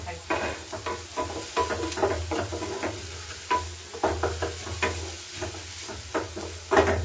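Onions fry in a pan until browning, with a steady close sizzle broken by repeated scraping stir strokes that come in uneven bursts throughout.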